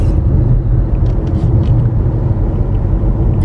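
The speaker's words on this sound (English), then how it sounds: "Driving through these Fort Wayne streets." A car drives through Fort Wayne streets, heard from inside as a loud, steady low road rumble and engine drone with faint higher ticks.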